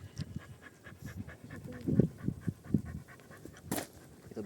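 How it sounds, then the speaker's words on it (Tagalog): A dog pants in quick rhythmic bursts close to the microphone on a mountain coffee ride at Mt Balagbag, with a louder breathy burst near the end and no talking. "Hingal na si aso eh."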